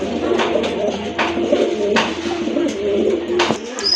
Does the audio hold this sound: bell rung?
no